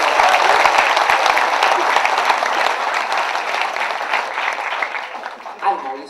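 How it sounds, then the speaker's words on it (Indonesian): An audience at a motivational success-mindset seminar breaks into applause, dense clapping that starts loud and gradually thins and fades over six seconds. "tepuk tangan"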